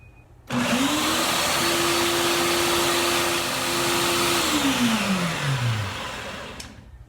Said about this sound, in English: To a blender, and then we're going to put it on high speed for about 15-20 seconds.